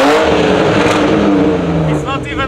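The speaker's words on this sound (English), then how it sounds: "Yeah, rev it to the red line." A car engine revs hard toward the red line, roaring loud and close with a rising, straining pitch that eases off near the end, while people talk over it.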